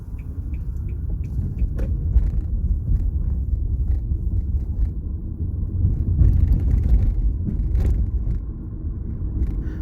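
A car pulls away from a roundabout and accelerates, a steady close engine rumble with road noise throughout, a few faint clicks and knocks on top.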